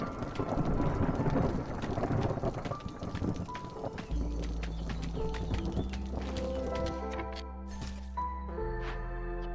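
Stormy weather in the video game Against the Storm: steady rain and rumbling thunder, with a deep low roll building midway, accompanied by in-game music, and no talking.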